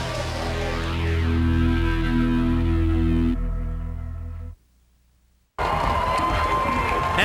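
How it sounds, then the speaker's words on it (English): Stadium crowd cheering and roaring at the 1999 Canada Cup soccer match between Canada and Ecuador: a loud, dense, sustained wall of voices that suddenly cuts to near silence, then returns as a noisy broadcast hubbub. "you might be able to hear the cheering in the background"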